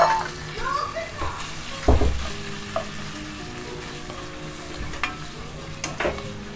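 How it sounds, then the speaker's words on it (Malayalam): Marinated chicken fries in hot oil in a pan, giving a steady close sizzle broken by stirring clatter and scrapes, with a voice speaking at times. "ഇത് നല്ലേക്ക് ഒന്ന് പൊരിയട്ടെ"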